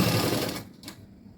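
Sewing machine stitching cloth in a round path for a fabric rose hanging, a fast even rattling whir that stops after about half a second, followed by a faint click.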